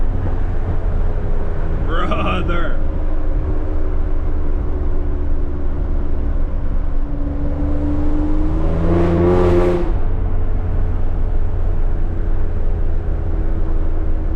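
A catless, tuned BMW X3 M drones steadily from inside the cabin, with a brief rev burst near the start and a stronger surge of acceleration later.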